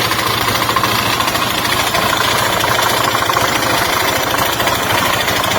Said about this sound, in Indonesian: ini akibat kipasnya kendor atau bautnya kendor. Jadi bunyi berisik.